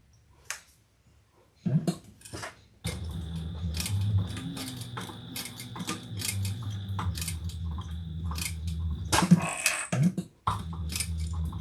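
A sewing machine with a narrow foot runs in a steady mechanical whir while stitching across a bag strap near a swivel. Close, even motor hum comes after a few short taps, with brief pauses and light clicks near the end.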